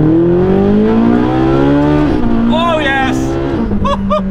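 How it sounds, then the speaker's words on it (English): Naturally aspirated V8 of a Ferrari 458 Speciale revving loudly and steadily climbing in pitch, with a brief dip near two seconds and a sharp blip toward the end, while a man exclaims over it. "Naturally aspirated V8."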